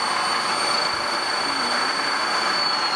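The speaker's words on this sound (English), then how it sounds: "Reverse, trying to reverse the motor." An electric motor on a generator setup, run by a variable frequency drive, whines steadily while reversing, with a sustained high tone over broadband hum at constant loudness and no talk.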